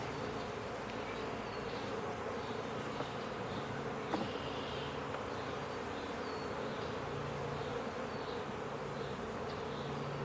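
Honeybees around a hive hum in a constant, dense drone, steady and fairly quiet, with no talk over it.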